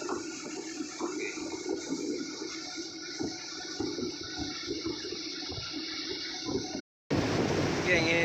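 Large sea waves in the Java Sea crash and wash in a continuous, loud roar close by, with a brief dropout near the end, and faint voices underneath.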